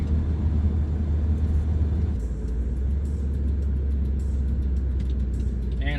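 A car exits Highway 111 onto the ramp toward Portland Street in Dartmouth, Nova Scotia, during a road test. Steady road and engine rumble is heard from inside, shifting tone partway through, with faint clicks.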